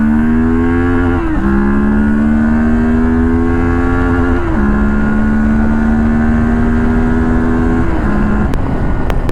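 A Moto Morini X-Cape 650X motorcycle accelerates hard through the city, its engine note rising through several gears in a row, loud and close, with wind roar underneath.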